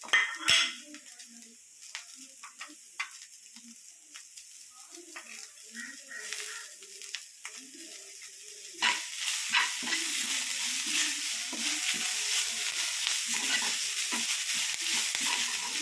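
Drumstick leaves go into a pan for a jackfruit-seed thoran: a few soft clinks and stirring at first, then a sudden, steady sizzle of frying that continues to the end, with scattered spoon scrapes and occasional voice in between.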